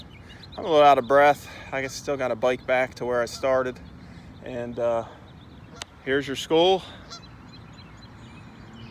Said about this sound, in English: We got a loon goose out here.